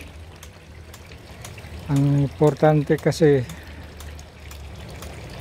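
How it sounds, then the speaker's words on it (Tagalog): Water runs through fish pond lines as a steady low trickle and gurgle that continues throughout. Someone speaks briefly in the middle over it. "kailangang mamonitor natin ang takbo ng tubig ng ating fish pond"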